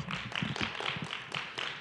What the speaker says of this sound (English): Let's give all the speakers another round of applause.